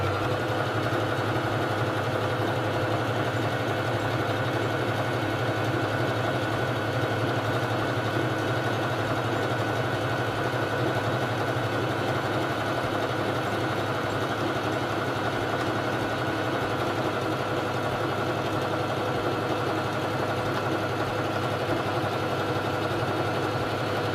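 A Singer 3333 sewing machine stitching a feather stitch, running with a steady, continuous mechanical hum and rapid needle rhythm throughout, close and unbroken with no talking.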